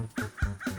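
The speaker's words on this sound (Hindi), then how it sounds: "इतने कौवे छोड़ूंगा नहीं।" Several cartoon crows caw in a quick series of harsh, loud calls, three distinct bursts close together with no talking.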